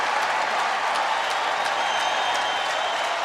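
A baseball crowd of more than 45,000 in Atlanta gives a sustained ovation for Orioles star Cal Ripken, with steady broad applause and cheering that holds even throughout, carrying a distant, stadium-wide wash of sound.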